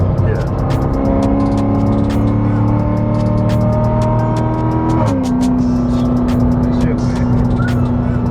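A C7 Corvette with an LT V8 engine and raspy exhaust drones loudly from inside the cabin during a ride, its steady engine tone dropping in pitch about two-thirds of the way through as the car shifts, while people talk over it.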